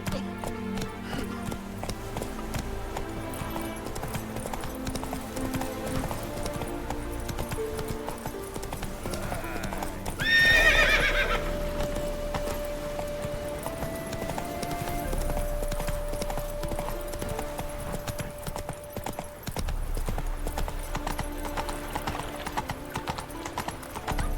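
Hoofbeats of the horse Roach galloping in The Witcher 3 video game, a steady clip-clop rhythm running throughout over game music, with a louder burst near the middle.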